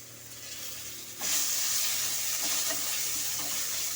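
A spice paste of tomato, ginger, onion, garlic and green chilli hits hot oil in a pan, jumping from a soft background hiss into a loud, steady sizzle that continues without talk.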